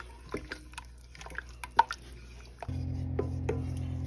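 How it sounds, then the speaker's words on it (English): Grated corn pudding being stirred in a pot, wet squelching and dripping strokes at irregular intervals, close and soft, with a steady hum starting partway through. "So I'm gonna stir. I'm gonna stir until it gets thick."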